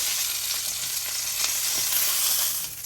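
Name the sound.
beef pot roast searing in a pan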